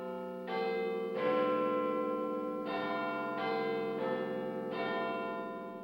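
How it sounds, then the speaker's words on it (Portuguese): The great 13.5-ton Big Ben bell in the Clock Tower at the Houses of Parliament, London, tolls in a series of loud, resonant strikes, each ringing out and overlapping the lingering hum of the previous one. "O sino anuncia as horas do enorme relógio da torre"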